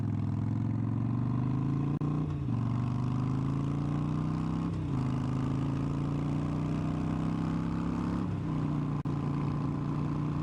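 A Harley Sportster 1200 Custom motorcycle accelerates hard through several gear changes, its loud engine roar rising in pitch and dipping briefly at each shift. Wind noise runs throughout, heard close up from the rider's position.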